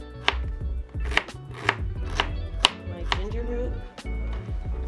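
Fruit being sliced on a cutting board while making a blueberry drink: a steady series of sharp knife chops against the board, about eight distinct strikes at close range.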